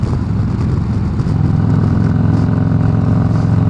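2018 Harley-Davidson Road Glide Special with Tab Performance mufflers rumbling loudly on the road as the rider downshifts, a deep, continuous V-twin exhaust growl with wind noise.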